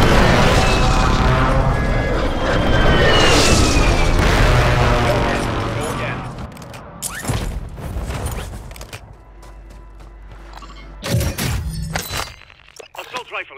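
Heavy explosions and bursts of fire from an air strike in Call of Duty Warzone on PS5, a dense loud barrage at first that thins into scattered blasts, with voices heard in the clip.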